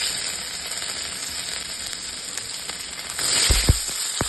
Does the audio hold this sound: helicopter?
no